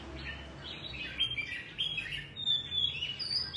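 A caged songbird chirps in quick, bright bursts close by, with a few squawky notes against a low steady background hum and no talking.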